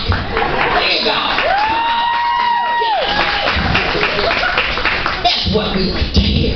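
A comedy club audience cheers, whoops and claps loudly and steadily, with crowd noise filling the whole stretch and a brief whistle-like rising tone partway through.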